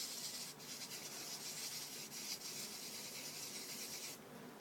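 Fine 2000 grit sandpaper rubs back and forth over a damaged CRK screw head, a steady close scratchy rasp that runs almost the whole time, with brief lighter gaps, and eases off near the end.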